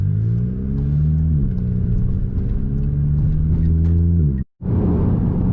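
Volkswagen GTI engine humming steadily from inside the car as it drives, a loud low rumble that shifts pitch with gear and speed changes before briefly cutting out and resuming, with no talking.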